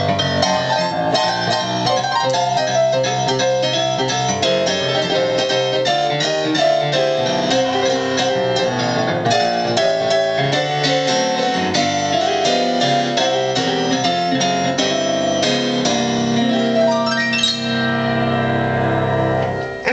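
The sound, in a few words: iGrand app Concert Grand 1 piano sound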